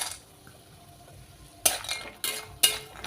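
A spoon scrapes and clinks against a pan as bori lentil dumplings fry over a faint sizzle, three sharp metallic strokes standing out near the end.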